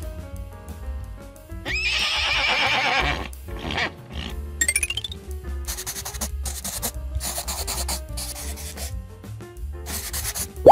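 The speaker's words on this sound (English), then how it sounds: "A horse." A horse neighs loudly in a long shrill whinny that shakes and falls, followed by snorting and rough rubbing noises, then rhythmic clip-clop hoofbeats over a steady musical bed.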